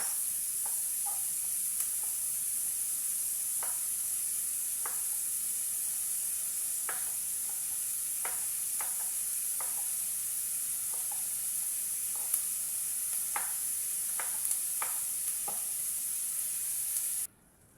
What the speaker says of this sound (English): Going to add some tomatoes.